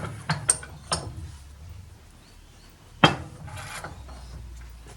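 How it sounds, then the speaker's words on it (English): Wedges clamped in a vise against a lathe chuck, with a few scraping metal knocks and then one sharp pop as the chuck breaks free, fairly close and alone. "and that pops the chuck off."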